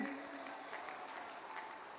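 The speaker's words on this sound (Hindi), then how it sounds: "जरा जोर से ताली बजाना" Applause from an audience at a political rally, a steady wash of clapping that stays fairly even and moderately distant throughout.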